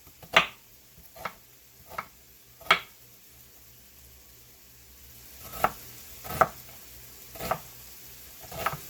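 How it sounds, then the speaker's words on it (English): Sharp knife chops through cabbage on a cutting board, a few quick strikes, a pause, then several more, close and crisp with no talking. "I guess most of the chopping is going to come from the cabbage."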